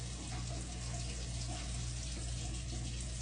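Water runs steadily from a faucet in a care setting, a constant soft rushing hiss with no pauses and no voices.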